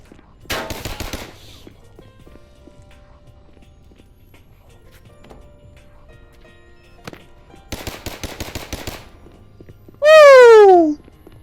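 Video game gunfire emptying a single magazine, heard as two dense bursts of rapid shots separated by quieter game noise, followed by a loud rising electronic whooping tone near the end.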